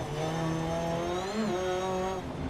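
An R5 rally car in Dirt Rally 2.0 drops a gear on a fast gravel stage, its engine note holding a loud, steady tone that dips briefly mid-clip before climbing back, with no speech over it.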